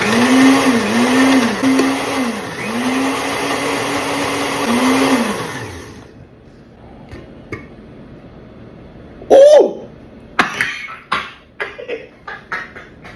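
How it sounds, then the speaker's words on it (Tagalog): A blender runs loudly for about six seconds, its motor pitch wavering, then cuts off, followed by scattered clatters and a short cough-like sound. "Teka lang, blender natin"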